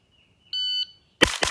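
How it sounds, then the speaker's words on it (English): A single steady electronic shot timer beep lasting about a third of a second, then two loud, sharp gunshots in quick succession. "It's set up for a delay on the buzzer"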